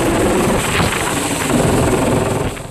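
A helicopter delivering food over the flooded area around Vijayawada gives off a loud, steady, broadband rotor and engine roar, close and continuous, easing slightly at the end, with no voices.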